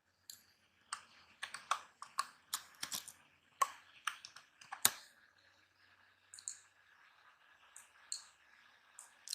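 A name is typed on a computer keyboard, with close, crisp key clicks coming in quick irregular bursts and short pauses in a quiet room.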